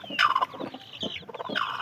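A hen that has just hatched chicks clucks close by in a run of throaty, uneven calls, with no talking.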